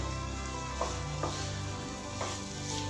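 Soybean curry frying in a pan with a little water and spices, a steady low sizzle broken by a few soft scrapes as it is stirred, close and alone.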